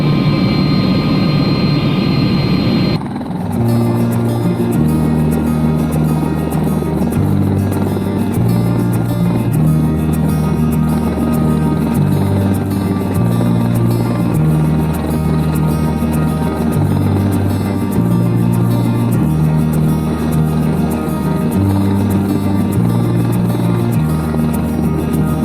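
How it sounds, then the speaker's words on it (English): Airbus H120 five-passenger helicopter with a 500 shaft horsepower turbine engine in flight to Sable Island, a loud, continuous close cabin drone with a pulsing low rotor beat throughout and no speech. "It's an Airbus H120, 5 passengers, driven by a 500 shaft horsepower jet engine."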